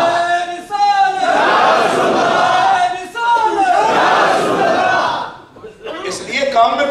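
A large crowd at a religious gathering in Manchester chants slogans in unison, with two long, loud, roaring bursts of massed voices separated by a brief pause, then a quieter scattered tail.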